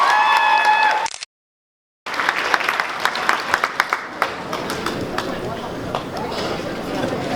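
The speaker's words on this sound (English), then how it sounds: "give them a hand of applause" A cosplay contest audience at the Aikon 2015 convention applauds the judges, with steady crowd clapping and scattered voices starting after a short silent break that follows a few seconds of tonal sound.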